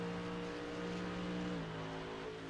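GT3 race cars battling closely, a Ferrari among them, with engine notes holding steady at high revs, then a downward pitch shift midway as one car shifts or lifts; loud and continuous, no talk.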